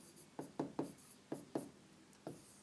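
Chalk or marker strokes on a board during a computer science class, six short tapping scrapes in an uneven rhythm, close and fairly clear in a quiet room with no talking.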